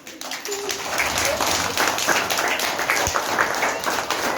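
Clapping from a group of children in a classroom after drawings of mountains, waterfalls, trees and the sun are praised, a continuous brisk patter of many hands with scattered voices underneath.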